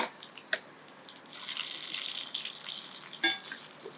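Steak frying in a hot pan with garlic and onions, a steady crackling sizzle with sharper spits and pops, close and fairly loud, no talking.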